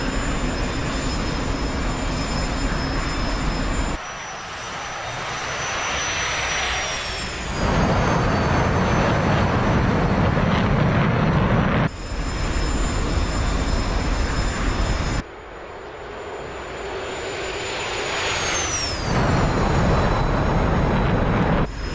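The jet engine of an F-105 Thunderchief in the DCS World flight simulator roars loud and steady, a broad constant rumble with high whining tones that shift and sweep as the power changes, broken by a few abrupt cuts.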